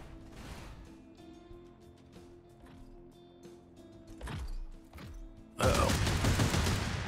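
Gunfire in the tactics video game Kriegsfront Tactics, with a few mechanical clicks and clanks and a low thump, then a loud dense burst of shots near the end.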